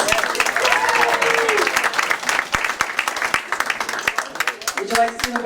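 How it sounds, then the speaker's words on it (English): An audience at a holiday potluck celebration applauds the students with dense, continuous clapping, and voices and a few calls rise through it near the start and the end. "Let's give the students another great round of applause."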